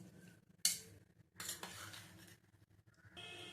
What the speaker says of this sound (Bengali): সমস্ত উপকরণ দিয়ে ভালো করে একটু মাখিয়ে নিতে হবে